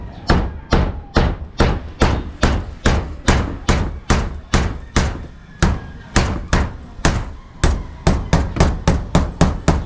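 Hammer blows strike a roof in a steady, loud rhythm of about two per second. Each close, sharp knock decays quickly, and the pace speeds up near the end.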